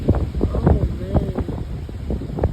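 Strong wind gusts buffet the microphone outdoors, a continuous low roaring rush that swells and eases, with a person's voice briefly audible beneath it.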